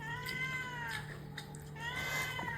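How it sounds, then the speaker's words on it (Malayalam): A cat meows several times in quick succession near a Malayalam eating spot, plaintive rising and falling cries close by over a steady background hum. "പൂച്ചക്കൂട്ട് അവിടെ നിന്ന് എനിക്കിന്താ എനിക്കിന്താന്ന് പറയുന്നുണ്ടായിരുന്നു"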